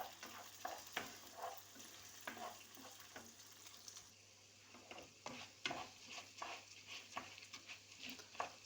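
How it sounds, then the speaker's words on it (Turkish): Rice toasts in hot oil for chickpea pilaf, a faint steady sizzle broken by repeated soft scraping strokes of a spoon stirring the grains, fairly even rhythm, no voices. "Pirinci yağda iyice kavurup birbirine yapışmayacak derecede kristallaşacak"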